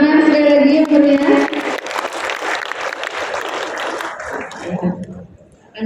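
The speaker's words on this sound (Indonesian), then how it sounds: "berikan tepuk tangan sekali lagi yang meriah" Audience applause at the closing ceremony of a district workshop, a broad clapping wash with tonal sound at first that fades out toward the end.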